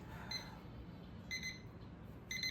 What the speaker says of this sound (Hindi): देखिए अलार्म भी बजने लग गया।